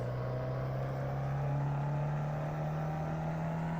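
A steady racing car engine drone in the video game Assetto Corsa holds a constant pitch throughout, a continuous motor hum with no talking.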